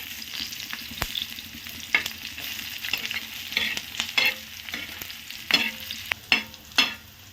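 Onion pieces roasting in a pan for a peanut and onion thecha, with steady sizzling and repeated sharp scrapes and knocks of a spoon stirring, close and fairly loud, no voices.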